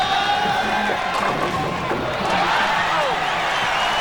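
At a 1996 PBA National Championship title bowling match, a crowd cheers and murmurs in a steady, loud wash of voices and noise, with a commentator talking over it.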